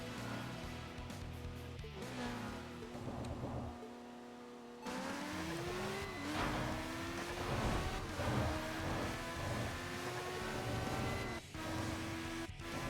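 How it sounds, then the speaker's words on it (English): Racing engine of a detuned Nissan GT-R T-Spec in the video game Tokyo Xtreme Racer, revving and shifting through gears at steady loudness, with a brief cut-out before the engine note climbs again. "I'm gonna detune my that T-Spec GTR and take down freaking Loyal Knight"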